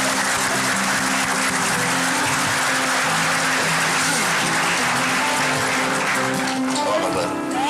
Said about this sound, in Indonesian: tepuk tangan buat Anindiati Sastri